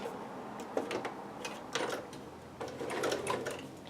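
A domestic sewing machine runs a basting stitch on dress fabric, its needle chattering in quick bursts that start and stop several times, close and fairly loud, with no talking.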